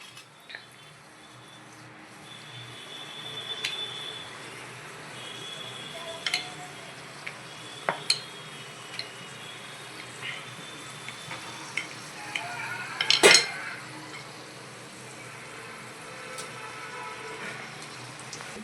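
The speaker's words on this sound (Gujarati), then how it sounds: "હવે નાખીશું આપણે કચોરી" Pigeon pea kachori deep-fry over low heat, a quiet, even bubbling of oil with scattered soft pops and clinks, one brief louder crackle burst near the end, no talking.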